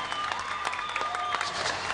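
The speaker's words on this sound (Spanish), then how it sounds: "un aplauso a Funda Comunal Son" A short burst of audience applause at a live televised political program, dense and continuous, with a faint voice just under it.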